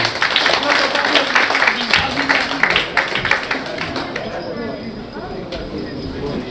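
Mushaira audience in New York gives a poet a welcome with a burst of close, brisk clapping that thins and fades toward the end as the hall quiets.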